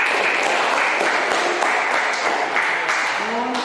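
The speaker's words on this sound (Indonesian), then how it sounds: "Kita beri tepuk tangan lagi." Classroom applause, a dense continuous patter of many hands clapping near the microphone, with a voice starting to speak briefly at the very end.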